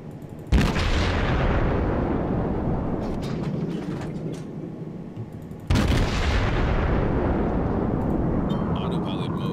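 Heavy naval guns from warships in World of Warships, cruiser Aoba against a battleship, boom in two loud salvos with long rumbling decay, the second about five seconds after the first.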